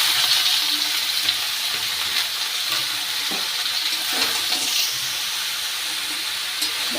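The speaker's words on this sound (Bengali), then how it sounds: "এই যে লাউটা কুচি কুচি করে কেটে রেখেছিলাম সেটাকেই আমি দিয়ে দেব" Finely chopped bottle gourd fries in a hot pan with dried red chillies, giving a steady, close sizzle broken by a few stirring scrapes and knocks, with no one talking.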